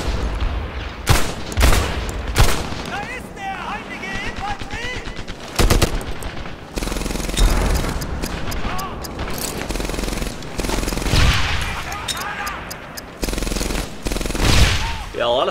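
Machine gun fire rattles in Medal of Honor Airborne during Operation Neptune, with sustained automatic bursts, sharp single cracks and heavy booms layered over battlefield din, loud and close, while a voice talks in places.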